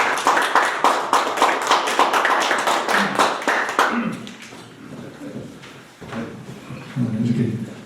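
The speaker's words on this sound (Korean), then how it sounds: "큰 박수 부탁드립니다" Audience applause greeting a retired army general at an anti-corruption lecture, with dense, loud clapping for about four seconds before it fades and a voice begins speaking.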